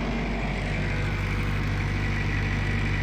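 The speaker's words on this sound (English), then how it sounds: "we fixed the generator. Listen to that baby just purr. That is a smooth running engine." A repaired military generator engine idles smoothly, giving a steady, even mechanical hum with no misses or knocks, close by and continuous for a few seconds.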